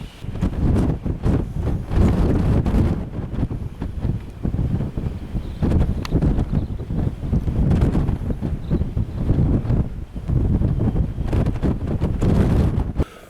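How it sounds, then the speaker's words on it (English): Strong wind in rural Vallebrón, Fuerteventura, buffets the microphone in loud, continuous gusting roars that rise and fall throughout. "when I said it was windy out there, I wasn't exaggerating"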